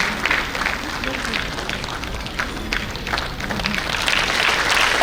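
Applause at a corporate award ceremony fills the hall as an absent winner's mother accepts his prize: a dense, continuous clapping with crowd noise and voices mixed in throughout.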